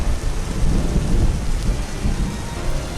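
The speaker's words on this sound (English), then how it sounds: "It was raining." Heavy rain pours steadily while low thunder rumbles through it, a loud, dense storm wash with no voices, used as a sound effect in an audio story.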